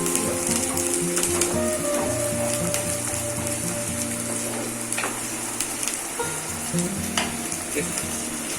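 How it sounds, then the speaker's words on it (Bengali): Onions frying in a hot pan for a masoori chicken dish, a loud continuous sizzle and crackle with occasional stirring scrapes, close up, with a faint hum and some background sounds. "ভালো করে ফ্রাই করতে হবে, যাতে কাঁচা পেঁয়াজের গন্ধটা চলে যায়"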